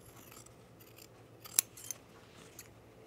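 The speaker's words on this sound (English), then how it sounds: "Let me trim down my seam allowance or my interfacing here." Sewing scissors trim the seam allowance and interfacing on a shirt's under collar. A few quiet, crisp snips land in a hushed room, with the sharpest cut near the middle.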